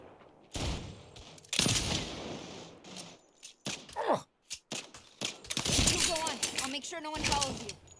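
Sniper fire in Saints Row crackles as a string of sharp, loud shots and impacts, spread irregularly across a chaotic firefight, with voices and other game sounds mixed in.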